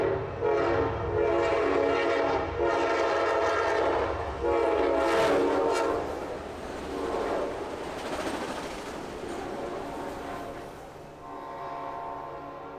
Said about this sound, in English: we would only be getting a partial view of Amtrak 500 as it passed on its way to Seattle